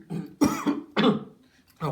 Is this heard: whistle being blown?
no